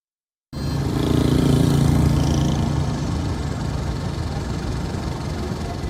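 A bus engine runs on the road from Kabul to Kapisa in Afghanistan. Its steady, dense rumble starts after a short silence and continues without a break to the end.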